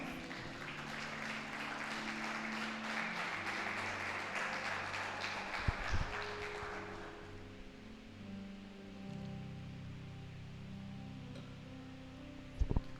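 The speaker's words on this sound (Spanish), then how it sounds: "Y le da un fuerte aplauso al Señor" A church congregation applauds during a Spanish-language sermon, a broad wash of clapping that swells for several seconds and then fades into murmuring and low background sound.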